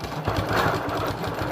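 A Little Rebel sewing machine running steadily while quilting a fabric sandwich, giving a continuous close whirring hum with a fast, even stitching pulse throughout.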